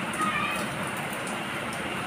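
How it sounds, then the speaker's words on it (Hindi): Heavy monsoon downpour in Karachi, a dense, constant hiss of rain hitting surfaces, loud and steady throughout. "इस साल की पहली बारिश, मूसलाधार बारिश।"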